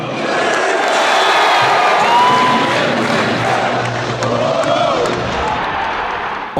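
A basketball home crowd roars loudly in an arena, with shouts and whoops over a sustained cheer that eases slightly toward the end.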